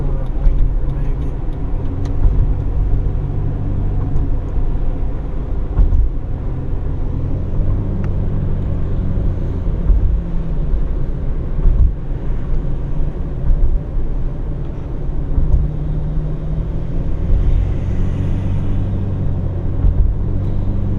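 An old four-wheel-drive vehicle cruising on a highway in snowy Michigan, a loud continuous low engine and road rumble with steady tire drone heard from inside the cab.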